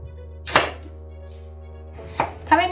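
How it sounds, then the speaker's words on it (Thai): A knife chops zucchini into bite-sized cubes on a cutting board in a home kitchen, three sharp separate cuts with quiet gaps between them. "หั่นเป็นชิ้นเต๋าประมาณนี้ค่ะ"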